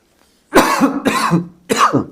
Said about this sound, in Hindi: थोड़ा खांसी आया ठंडी के मौसम में